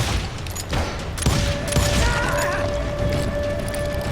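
Enemies fire rifles in Call of Juarez: Gunslinger, with several sharp shots and booms scattered over a few seconds, followed by mechanical clicks and a ringing tone in the game mix.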